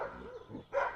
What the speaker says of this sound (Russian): лают сразу несколько собак